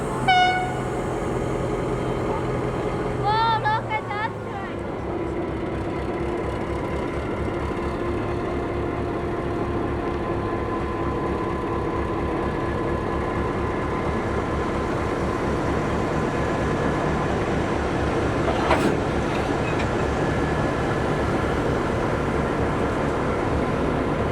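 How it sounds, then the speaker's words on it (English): A continuous rumble of rail cars and machinery as a train couples, with a brief horn toot near the start and a sharp metallic clank later on. "So once again here, the train is going to couple."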